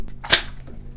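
A single sharp, close gunshot from a firearm at a shooting range, with a short tail and quiet before and after.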